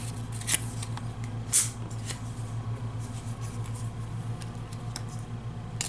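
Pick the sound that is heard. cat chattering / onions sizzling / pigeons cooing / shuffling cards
shuffling cards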